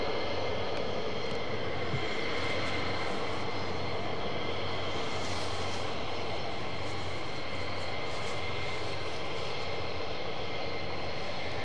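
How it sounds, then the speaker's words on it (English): A Lockheed C-130 Hercules at RAF Lakenheath, its steady propeller engine drone heard from a distance as a continuous, fairly faint broadband roar that swells slightly midway, with no talk. "That's a Hercules, mate. That's a C-130,"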